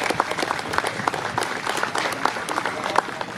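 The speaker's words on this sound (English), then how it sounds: "I think they deserve a round of applause." Audience applauding the committee behind an annual Nuremberg community celebration, a steady crowd clapping at moderate distance with some sharper individual claps and faint voices mixed in.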